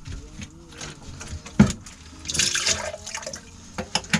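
Water is poured into a cooking pot for Moroccan harira soup, an uneven splashing gurgle swelling midway, close and moderately loud, with a few clanks around it.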